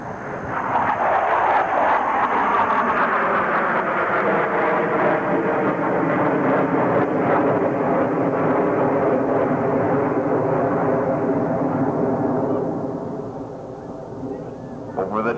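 Blue Angels jets fly in formation at a 1987 airshow at Carswell Air Force Base, with a loud, sustained roar that sweeps in pitch as they pass, then tapers off toward the end.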